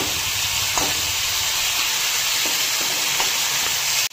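Oil frying in a pan, a loud, steady, hissing sizzle throughout with a few faint taps of stirring, cutting off abruptly at the end.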